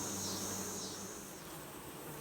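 Honeybees at a Langstroth hive during an inspection, giving a steady, close insect hum that holds without a break across the short stretch.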